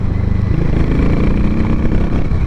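Harley Davidson X440 motorcycle being ridden, a loud close engine note with steady throbbing rumble and wind, brief and continuous with no talking.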